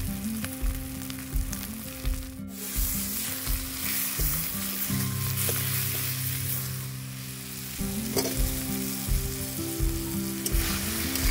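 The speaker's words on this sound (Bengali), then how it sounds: "দেখুন আমি মশলাটাকে ভালো করে ভেজে নেব" Spices with chilli powder and turmeric fry in hot oil for a home-cooked mutton curry, giving a continuous close sizzle with intermittent scraping stirs and no talking.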